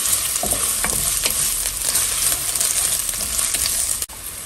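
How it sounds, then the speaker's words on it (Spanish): Garlic and onion fry in a saucepan with a steady, close sizzle and stirring scrapes throughout, cutting off sharply just before the end. "Voy a agregar el ajo y la cebolla en una cacerola. Y voy a dejar que se cocine."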